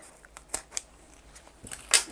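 A few quick, crisp snips of scissors trimming zipper tape, close by, with light handling noise between the cuts.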